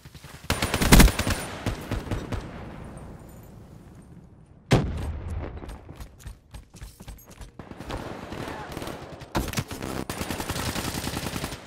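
Gunfire in the shooter game Black Ops 3, with loud bursts of rapid shots, isolated cracks and mechanical clicks separated by quieter stretches, some heavy volleys close up.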